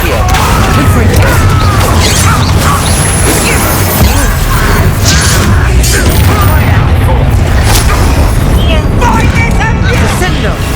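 Confringo blasting-spell explosions in the Hogwarts Legacy video game, a dense run of booms and crashes that fills the whole stretch at high volume, mixed with game voices and talk.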